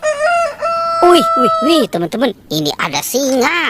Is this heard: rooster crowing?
yes